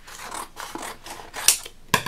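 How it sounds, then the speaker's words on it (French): Scissors snip through a small piece of paper while a Christmas car card is being made, giving soft rasping cuts and then two sharp, close snips near the end. "on va venir couper un petit morceau de papier"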